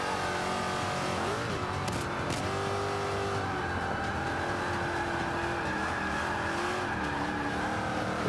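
A Range Rover racing on the Indy GP circuit in Forza 5, its engine droning loudly and continuously with shifting pitch as it accelerates, joined by brief tire squeals, with no pauses.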